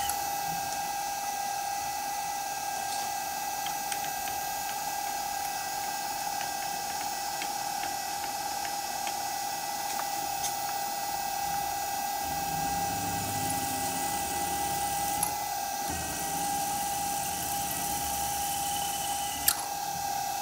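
A CTV36 milling and drilling machine runs steadily while drilling holes, giving a constant mechanical whine with a broad hum that changes slightly partway through, loud and continuous, with no voices.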